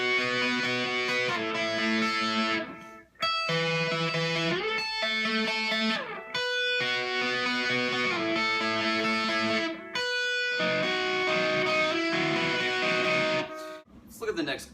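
At full tempo, a distorted electric guitar runs through the part, ringing chords changing in quick chunks with brief breaks between, loud and close throughout.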